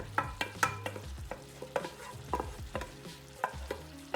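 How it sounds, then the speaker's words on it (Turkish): Sauce poured over meat in a pan while cooking a homemade tandır kebab with rice, with a stirring, sizzling frying sound broken by repeated close scraping and clinking strokes, and no talking. "Bu yaptığımız sosu etin üstüne boşaltacağız. Ve sosla birlikte pişireceğiz şimdi."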